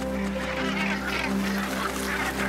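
A northern gannet seabird colony on the Gulf of St. Lawrence makes a dense, continuous chorus of harsh honking calls. A steady low hum runs underneath.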